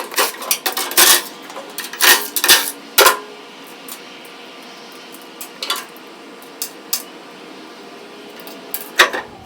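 Four 19mm bolts come out of the motor cover on a Brushzilla brush cutter, with sharp metallic clinks and rattles of wrench and bolts, clustered early and then sparser, close and moderately loud.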